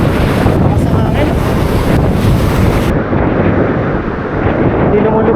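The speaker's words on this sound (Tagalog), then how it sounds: "Lakas ng hangin." Strong wind roars and buffets the microphone throughout, a loud steady rush with no talking.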